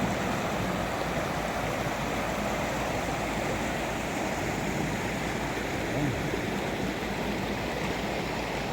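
A river in the Kabanggan mountains running high after heavy rain, with steady broadband rushing water at close range, constant and loud from start to finish.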